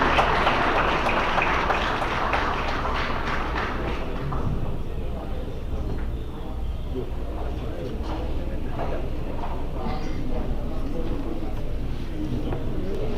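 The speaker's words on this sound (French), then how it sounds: "Encore une fois, je vous demande d'applaudir" Audience applause at an anti-corruption unit ceremony in Haiti: dense clapping for roughly four seconds that fades out, after which a speaker continues talking over a quiet room.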